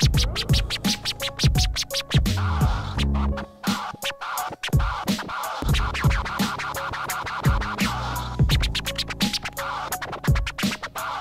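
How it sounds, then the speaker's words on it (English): Forward stab scratch pattern from a Pioneer DDJ-REV1 Serato DJ controller: short, sharp repeated scratch stabs riding a steady loud beat, with a brief thinner break midway and no talking. "The other patterns, you get a forward stab scratch."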